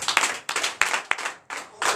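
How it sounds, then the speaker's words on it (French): A congregation at a night prayer service breaks into clapping, a few loud, uneven bursts of hand claps in quick succession, close and energetic. "Donnez l'acclamation"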